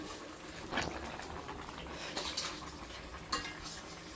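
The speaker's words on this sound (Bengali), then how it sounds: "সরাটা তুলে নেই" A clay pot lid is lifted off a pot of cooking taro root and singi fish, giving a few soft clinks and scrapes of earthenware against the rim over a faint background hiss.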